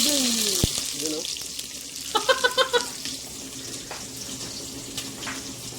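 Onions hissing and sizzling in a hot pan for chicken adobo, a soft steady fry with a few quick clinks of utensils, low in level, with someone briefly speaking over it.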